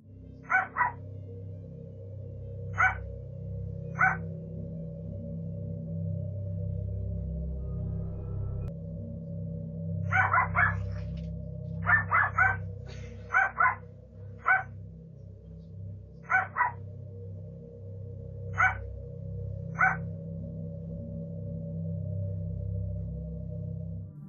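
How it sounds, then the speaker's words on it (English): A dog barks persistently in short single and double yaps, spaced irregularly over a steady low hum, sounding somewhat distant with no voices. "The dog's persistent barking suggests their unease."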